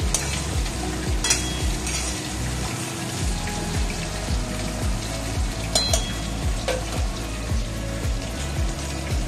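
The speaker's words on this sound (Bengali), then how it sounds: "আর এদিকে মাছটা ভাজা হচ্ছেই" Fish frying in a pan on a home kitchen stove with green chilies, a steady close crackling sizzle with fine popping spatters and faint clinks of a utensil, no voices.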